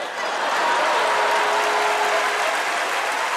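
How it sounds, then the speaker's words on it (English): Steady, loud sustained applause from a podcast audience or group, dense and continuous with no distinct individual claps, fading abruptly at the end. "We just gonna applaud them mothers."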